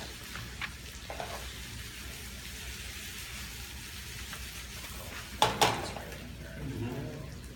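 Green chilies, curry powder, cumin seed and mustard seeds fry in a pan with oil, giving a steady, soft sizzle throughout. A few brief clinks and stirring sounds come near the end.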